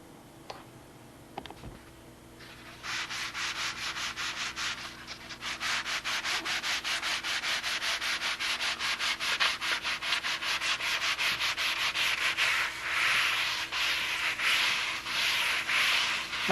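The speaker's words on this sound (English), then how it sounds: "I'll sand this right down." Sanding table working down a thin 1/8-inch wood piece for a Spitfire model, a steady close abrasive rasp running continuously after a brief quiet start, with faint rhythmic ticking under it.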